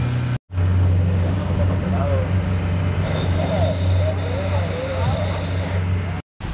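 A fishing boat's engine drones steadily and loudly at sea as the boat heads out of a bay at sunrise, a low constant hum with water and wind noise, briefly cutting out near the start and end.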